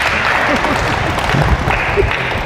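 Congregation applauding in a Manila parish church, a steady wash of clapping at even loudness throughout, with voices and cheers mixed in.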